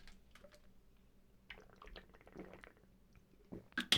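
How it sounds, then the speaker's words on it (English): Someone drinks water at close range, giving quiet wet sips and swallows with small liquid squelches, growing a little louder toward the end. "I need to drink some water, hang on"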